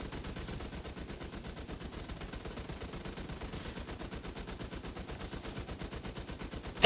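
Rapid, continuous automatic turret fire from The Division 2 video game rattles in an even, relentless stream of shots, loud and close, without speech.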